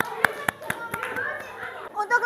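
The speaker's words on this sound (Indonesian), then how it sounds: "Beri tepuk tangan untuk kita semua." Children and their teacher clap together in a classroom, with a few sharp separate claps scattered among children's voices and chatter.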